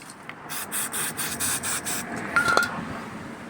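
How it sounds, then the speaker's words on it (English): Short hissing bursts of brake cleaner sprayed from a can onto a cloth during cambelt work on a Mitsubishi Evo, several quick pulses in a row, fairly close and quiet, followed by a faint scrape. "This has got brake cleaner on already, this cloth. And I'll spray a bit more on it."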